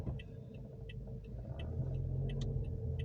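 A car with a learner at the wheel pulls away, its low engine rumble and road hum rising slightly while faint clicks tick in the background, quiet and steady with no voices.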